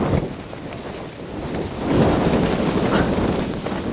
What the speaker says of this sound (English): I'd say 30 mile an hour winds gusting to 50.